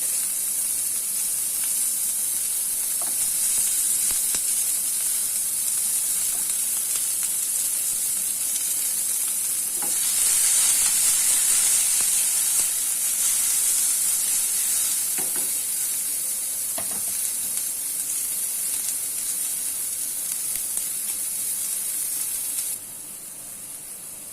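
Onion and garlic stir-fry in hot oil over high heat, a steady close sizzle and hiss with occasional stirring scrapes, lasting throughout and easing near the end.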